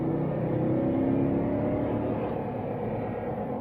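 A 2014 Toyota Sequoia accelerating hard from inside the cabin, a steady, full engine drone pulling continuously with no gear break, moderately loud and alone without talk.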